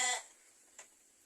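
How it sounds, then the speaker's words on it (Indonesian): A sheep bleats briefly and faintly in a rural Sundanese village in light drizzle, with a short second sound a moment later against quiet background. "Wah, banyak domba sahabat."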